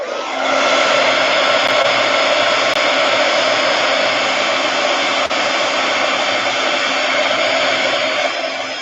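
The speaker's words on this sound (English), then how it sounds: "I'm going to just hit those with my heat gun a little bit and dry up that ink" A heat gun blows steadily to dry ink on an art project, a loud continuous airy roar running unbroken from start to finish with no talk.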